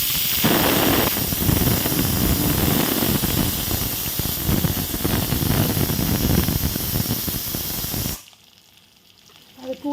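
Three cloves of crushed garlic drop into hot oil for a sorakka sambar, setting off a loud, dense sizzling hiss that runs steadily for several seconds before abruptly cutting to near quiet.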